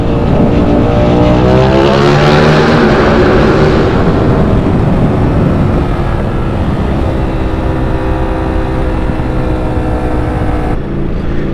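A Ducati Streetfighter V4S motorcycle V4 engine revs loudly up close, rising to a snarling peak early on and then settling into a rough, steady rumbling idle, with no voices.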